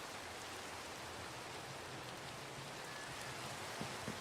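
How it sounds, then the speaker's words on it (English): Steady rain pours in Minecraft at night, a dense, even hiss of falling water with no break, a faint low rumble underneath and a few slightly louder drops near the end. "hopefully a little bit less rain in the game"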